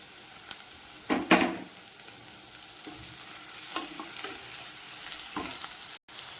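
Onions sautéing in a pan for a tamarind-based vathal kuzhambu, then chopped tomatoes dropped in with a sharp sizzling burst, followed by a gentle frying hiss and occasional stirring scrapes; no voices are heard.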